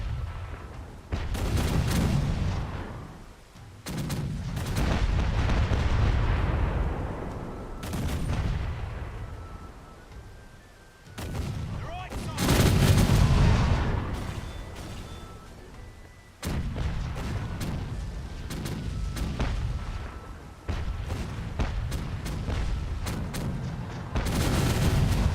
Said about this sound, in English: keep shooting over there because there's a gun emplacement there